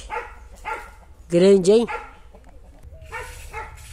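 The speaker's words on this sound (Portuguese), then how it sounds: "desculpa aí o cachorro aí, mas faz parte" A dog gives a short burst of loud, close barks among jackfruit trees, while people talk casually before and after it.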